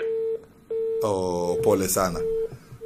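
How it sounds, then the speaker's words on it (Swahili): A steady telephone tone sounds with short breaks as a caller's line cuts off, then a voice speaks briefly over the line before the tone returns. "Pole sana simu yako imekatika"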